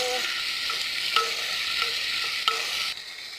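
Onion, garlic, ginger and tomato sauté in a pan for an Arabic lentil soup, giving a dense, steady sizzle close by with a few soft stirring knocks throughout.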